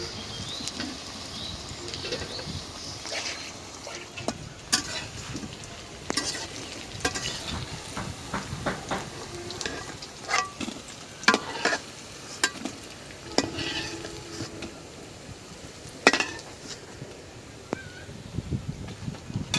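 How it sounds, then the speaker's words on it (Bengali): Lentil fritters frying in oil outdoors in a breeze, a steady close sizzle with crackling pops and occasional utensil clinks over a spread of broadband hiss, with no talking. "বড়া ভাজা আর সুন্দর একটা ফ্লেভার আসছে"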